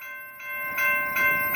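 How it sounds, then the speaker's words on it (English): A BNSF freight train passing on the Staples Subdivision in Detroit Lakes, Minnesota, heard faintly from a distance as a steady, sustained tonal chord like a horn, swelling slightly in short pulses. "Another train coming."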